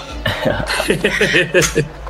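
Coughing and throat-clearing from someone with a head cold, a run of short rough bursts at close range across about two seconds, with no speech.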